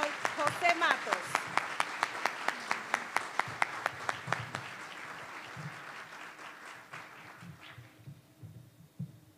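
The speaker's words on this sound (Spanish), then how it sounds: "Así que un fuerte aplauso." Rhythmic, steady clapping in a regular beat, like a crowd clapping in unison at an award ceremony, fading out toward the end with voices murmuring underneath.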